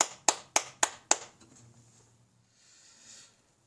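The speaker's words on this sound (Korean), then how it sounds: "우리 함께 영광의 박수 올려드리겠습니다." At a church high school youth group service, five sharp, close claps ring out in quick, even succession, then give way to a faint, quiet room.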